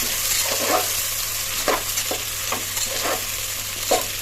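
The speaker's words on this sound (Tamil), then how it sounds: "வெங்காயம் போடுறோம். போட்டு இதை நல்லா வதக்கணும்." Sliced onions frying in oil with cinnamon and cloves for mutton biryani, a steady loud sizzle broken by repeated scraping stirs at irregular intervals, no talk.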